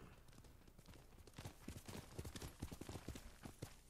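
A horse's hooves clip-clop in Ghost of Tsushima, a quiet, steady run of hoofbeats that grows firmer and more regular as the horse picks up pace, with no talk over it.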